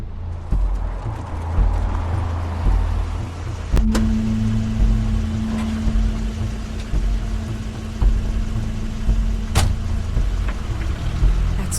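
A car rolls along in a moody game scene, its low engine drone steady throughout, with a sustained whine joining partway and a couple of sharp clicks, heard alone with no voices.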